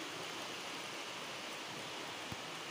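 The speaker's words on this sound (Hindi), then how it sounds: "और ये देखिए बारिश कैसी हो रही है।" Steady heavy monsoon rain pours down in Uttarakhand after three days without a break, water pooling on the ground; a dense, even hiss fills the scene from start to finish with no voices.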